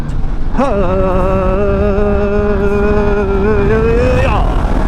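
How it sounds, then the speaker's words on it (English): A Yamaha MT-10 1000cc naked motorcycle revs up hard under wind rush, its engine note holding a steady loud whine and then climbing as it accelerates into a wheelie. "let's see if the MT-10 can wheelie."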